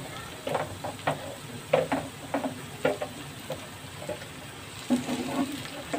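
Onions frying in a pan with tomatoes being added, a soft sizzle under irregular stirring clinks and scrapes, close and without talk.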